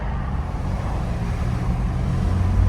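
A fifth-generation Toyota 4Runner with a newly replaced transmission accelerating, its engine a steady low rumble that swells slightly toward the end, heard from inside the vehicle with no talking.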